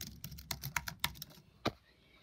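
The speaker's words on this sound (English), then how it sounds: "Has a nice keyboard." Fingers type on a computer keyboard at a gaming setup, a close, fast run of crisp clicks in uneven bursts that thins out, then ends with one sharper keystroke before quiet.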